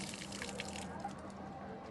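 A closed household tap in Soweto keeps leaking, giving a faint, steady trickle and hiss of running water that is quiet and continuous over the short moment.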